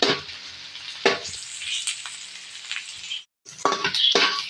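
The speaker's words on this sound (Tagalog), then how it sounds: "Igisa na rin natin ang bawang, sibuyas at luya." Garlic, onion and ginger are sautéed in a pan for a ridged gourd dish with misua and dried shrimp, a bright, close sizzle broken by stirring scrapes and a brief pause before the frying resumes loudly.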